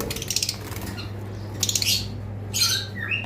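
Caged cockatiels and lovebirds give repeated shrill squawks and chirps in short bursts, close and loud, over a steady low hum.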